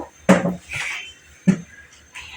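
A child's water bottle being washed by hand at a sink, with a few sharp plastic knocks and clatters against the basin separated by short pauses, close and fairly loud, no voices.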